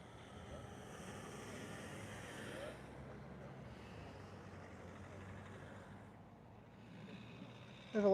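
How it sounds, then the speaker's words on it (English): A Jet2 airliner touches down at Liverpool Airport, its broad engine roar and rushing wind noise rising and then easing at a distance, with people talking over it. "Jet 2 about to touch down now"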